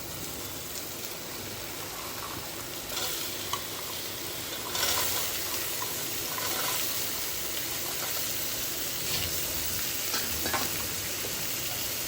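Carrot, peas and other vegetables sautéing in a pot for veg pulao, a steady close sizzle and frying hiss with occasional stirring scrapes throughout, no talk.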